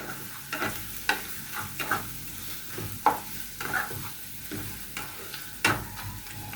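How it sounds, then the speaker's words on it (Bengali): Onions frying with bay leaves, cumin, cinnamon, cardamom and nutmeg for chicken curry: a continuous sizzle broken by repeated spoon scrapes and knocks against the pan, roughly one every second. "এসব দিয়ে এখন আমি ভালোভাবে পেঁয়াজের সাথে ভেজে নেব"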